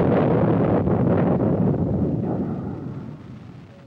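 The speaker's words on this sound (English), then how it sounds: "the U.S. Navy test-fired the ship-to-air Talos guided missile" A Navy ship-to-air Talos guided missile test launch at White Sands Missile Range in 1963 makes a loud, broad rushing roar that slowly fades away over a few seconds.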